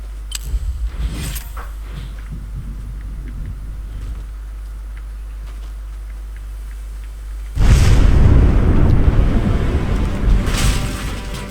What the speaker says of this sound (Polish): Ale wybuch.